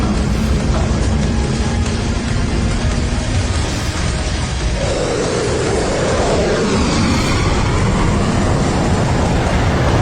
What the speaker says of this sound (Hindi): Wolf taxing out. Wolf clear for takeoff.